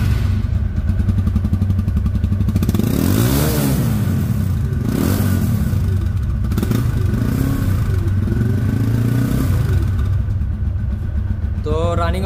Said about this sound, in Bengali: গাড়িটির সাউন্ডটি শুনুন, সাউন্ড শুনে বুঝতে পারবেন যে ইঞ্জিন কতটা ভালো আছে